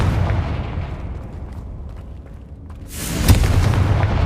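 Confringo fire spell from Hogwarts Legacy bursting into a deep booming explosion after a gradual swell of rumbling, a loud impact near the end followed by a lingering roar.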